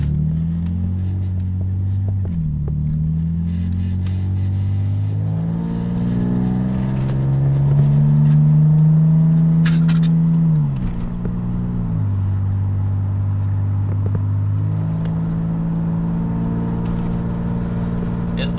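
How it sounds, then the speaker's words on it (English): A Nissan 300ZX Z32 with loud aftermarket exhaust mufflers drives along, its engine droning and rising and falling through gear changes, heard from close inside the car for the whole stretch. "Is the car excessively loud? Yes! Those mufflers."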